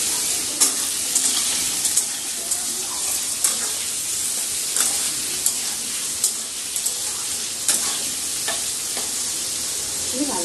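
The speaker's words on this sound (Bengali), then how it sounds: "তেল ছুটে আসবে একটু দূরে দূরে থাকো" Hot oil spattering and sizzling in a cooking pan, with close, crackling pops scattered over a steady hiss and occasional scraping knocks, and no speech.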